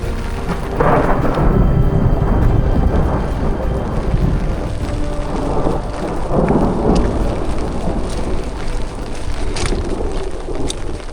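Thunderstorm in the Canadian Rockies backcountry, with heavy rain hissing steadily and deep rolling thunder rumbling through most of the stretch, loud and close, with no talk.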